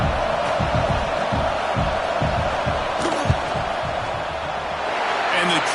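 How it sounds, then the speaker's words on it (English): Stadium crowd roar in a football video game as a field goal unit lines up for a kick, a steady dense wash of noise with rhythmic thumping, heard under continuous commentary. "This crowd trying to do its part to get inside the kicker's head."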